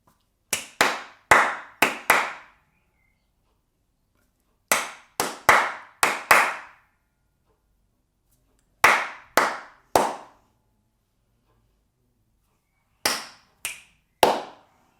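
Crisp hand claps in short rhythmic groups of four or five, each group separated by silence, loud and close.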